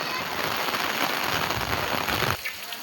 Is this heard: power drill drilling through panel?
no